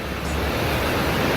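A river rushes beside a mountain trail near Everest Base Camp, a loud, dense, unbroken roar of flowing water filling the whole moment.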